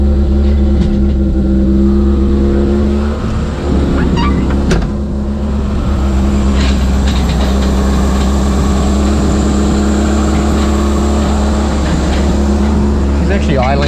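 A 1981 right-hand-drive Honda Accord engine idles steadily, a loud, close, even low rumble holding constant throughout with brief clicks and knocks on top.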